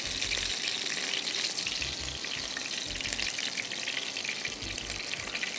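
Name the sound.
chullu kababs frying in a little oil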